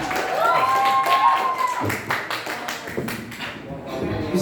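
An audience at a youth speech competition claps for a contestant. A voice comes first, then scattered, uneven claps that thin out toward the end.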